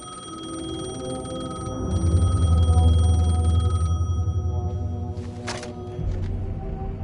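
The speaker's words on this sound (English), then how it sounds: "The payphone was ringing." A payphone rings in the video game Alan Wake 2, a continuous electronic bell ring that holds steady for several seconds over a low droning ambience, with a brief sharp noise burst near the end.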